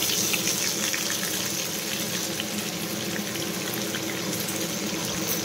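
Chopped onions sizzle in a little oil in a pan, a steady broadband hiss and crackle running unbroken and fairly loud with no talk over it.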